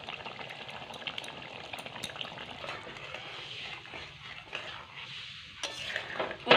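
A spice paste is stirred into a bhetki fish and potato curry, with soft bubbling, wet stirring and the scrape and clink of a utensil against the pot. A louder clatter comes at the end, with no voices.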